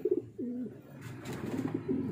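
Pigeons cooing close by, several soft, throaty coos repeating in short phrases over a low background rumble.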